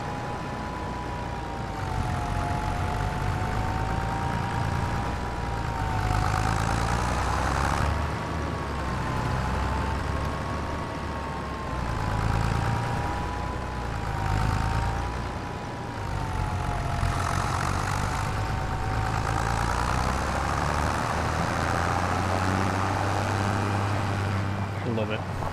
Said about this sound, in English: The sounds in this tractor are really good.